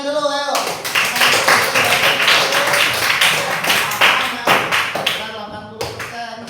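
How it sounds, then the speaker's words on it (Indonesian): Students in a classroom clap together after a teacher's call, a burst of rhythmic, loud clapping with distinct individual claps close by, mixed with voices and chatter that continue through it. "Oke, tepuk tangan dulu, ayo."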